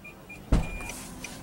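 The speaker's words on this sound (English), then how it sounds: "Power tailgate." A soft electronic chime beeps, then the power tailgate of a 2013 Infiniti QX56 SUV whirs and clunks into motion, a low hum continuing beneath repeated short beeps.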